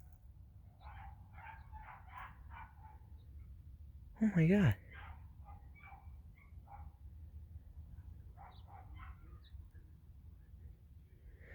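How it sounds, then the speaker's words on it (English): A burst of loud yelping and shrill barking comes from dogs in a neighbouring yard, brief and distant-sounding, with people talking quietly before and after it. "Sounds like dogs are being abused over there."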